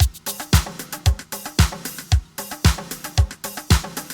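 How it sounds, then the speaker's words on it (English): A tight programmed beat from a LinnDrum 9000 sample drum machine loops steadily, with booming kicks, crisp snares and busy hi-hats repeating in a two-bar pattern. "programming up a drum pattern on a Lin 9000 sample machine"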